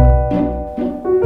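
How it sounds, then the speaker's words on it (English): A doorbell chime rings inside a house, its clear tones stepping between a few pitches in a short tune, loud and close with no talking. "That's the doorbell"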